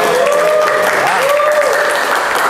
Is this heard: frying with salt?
no